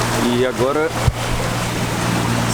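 Sailboat's inboard engine run at 80% power on a calm open sea, a steady low drone throughout with someone speaking briefly over it at the start.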